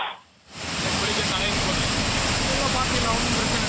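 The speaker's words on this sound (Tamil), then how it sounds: "திருப்பத்தூர் மாவட்டம் ஜலகாம்பாறை அருவியில் வெள்ளம் ஆர்ப்பரித்து கொட்டுகிறது." The flooded Jalagamparai waterfall in Tirupattur district roars as a loud, steady, dense rush of falling water after a short quiet start.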